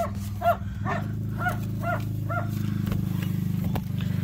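Dogs barking in a quick run of about six sharp barks over a steady low engine hum, heard at moderate distance.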